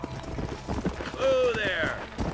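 Hoofbeats of a horse galloping across open ground in Red Dead Redemption, a steady clip-clop rhythm mixed with game sounds, with a horse whinny rising partway through and someone talking over the action.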